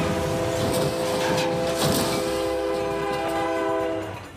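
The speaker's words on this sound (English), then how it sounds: "This crash test footage shows how easily a freight train can demolish a passenger car." A freight train in crash test footage sounds a long, loud horn blast with several tones over rumbling rail noise. The blast holds steady for about four seconds, then fades out.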